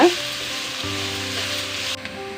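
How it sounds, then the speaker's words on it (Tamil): Grated beetroot sautéing in hot oil in a pan, a steady close sizzle lasting throughout with a few faint tonal hums underneath and a brief stir near the start. "பீட்ரூட்டை சேர்த்திட்டு பீட்ரூட்டோட இந்த பத்து ஸ்மெல் போகிற அளவுக்கு ஒரு ரெண்டு செகண்டுக்கு நல்லா இந்த ஆயிலே இதை நல்லா வதக்கி விடுங்க"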